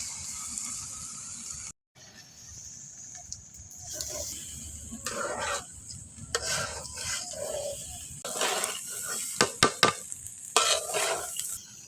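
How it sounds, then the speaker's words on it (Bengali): Rice frying and being stirred with cooked-down chicken in a pot for khichuri, with a steady sizzle, scraping stirs and sharper clinks of the spoon, close and moderately loud, no talking. "চাউলটা ভাজা আমার হয়ে গেছে"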